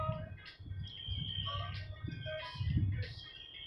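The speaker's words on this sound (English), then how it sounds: "Oh, that bird is really loud." A tiny bird calls loudly on a downtown Las Vegas street at sunrise, sharp repeated chirps over low traffic rumble and outdoor ambience.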